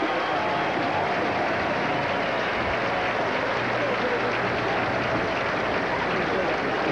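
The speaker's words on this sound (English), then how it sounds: "Watch the standing O he'll get" A stadium crowd at a 1984 Yale–Dartmouth college football game gives a standing ovation, producing a steady, dense roar of applause and crowd noise that holds for several seconds without a break.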